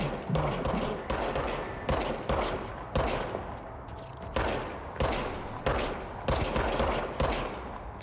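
Rapid bursts of gunfire in the video game Control, a string of sharp repeated shots in clusters with brief gaps between volleys, fairly close and dominant.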